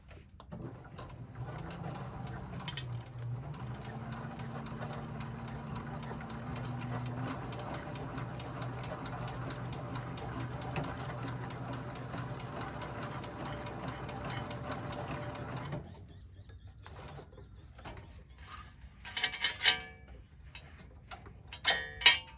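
A Cowboy CB6900 industrial sewing machine stitching a dog collar runs steadily for about fifteen seconds with a rapid rhythmic whir and tick, close and alone, then stops, leaving faint handling clicks.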